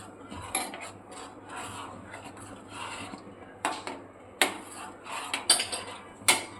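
Chickpea curry with half a spoon of garam masala being stirred in a pan, a spoon scraping and clinking against the metal in uneven strokes, with a few sharper knocks toward the end; close and fairly quiet, with no talking.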